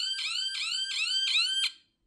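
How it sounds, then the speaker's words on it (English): A loud siren alarm from a laser fire early-warning device sounds four rising electronic whoops in quick succession, close and piercing, then stops abruptly. "you have a rather loud siren which I've had to turn upside down"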